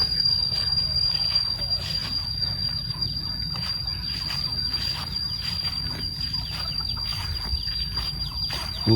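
Farm chickens cluck intermittently over a steady low outdoor rumble in a rural village yard where ducks and hens are raised, the calls moderately close and continuous.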